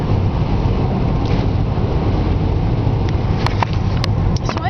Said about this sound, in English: gotta watch this truck.